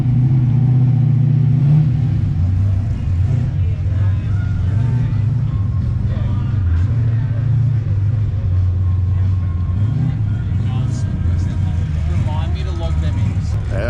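Car engines at the Tuff Streeters car show, including a hot rod with a big blower, rumble and idle steadily with occasional revs, blended with crowd noise throughout.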